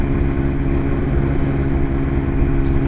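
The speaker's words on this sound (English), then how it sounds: "Riding through here is the absolute worst." An S100RR motorcycle ridden at night over rough roads, its engine a loud, steady drone with road rumble throughout, close up and with no voices.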